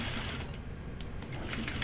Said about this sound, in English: Sewing over pins gives me so much anxiety.